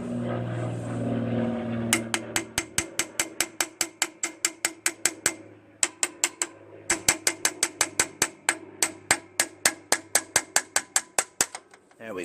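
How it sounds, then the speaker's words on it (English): A light hammer taps on a part of a Craftsman 15.5 HP hydrostatic lawn tractor, making rapid, evenly spaced sharp metallic taps in two long runs with a brief pause between them, close and loud. "Some light tapping, and it'll get it off."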